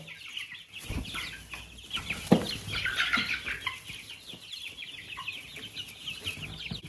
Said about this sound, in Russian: это петушки чубатого доминанта Чехия